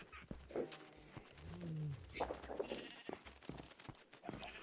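Sheep bleat faintly in a video game farm among other farm animals, several wavering calls scattered across the span amid soft game sounds, with no talk over them.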